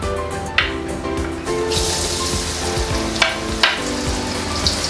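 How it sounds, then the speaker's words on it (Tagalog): Cut sweet potato (camote) fries sizzling steadily in very hot cooking oil, a dense continuous crackle with a few sharper pops and spatters rising through it, close and fairly loud with no talking. "Sobrang init na yung ating mantika. Ayan, so ipiprito lang natin siya."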